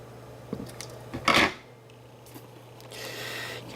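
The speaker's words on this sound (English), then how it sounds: "can hear my scissors slamming down in the background" Metal scissors banged down on a table, a sharp loud clatter that rises to a burst and then fades into quiet room noise with a low steady hum.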